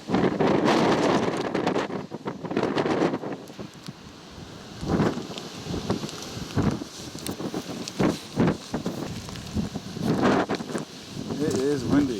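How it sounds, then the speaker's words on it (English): Strong wind buffets the microphone at an abandoned air force base, with heavy rumbling gusts coming in waves, and people talking intermittently underneath. "It is windy."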